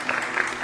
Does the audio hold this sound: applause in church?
yes